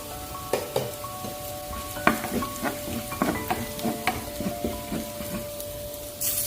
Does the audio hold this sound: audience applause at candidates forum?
no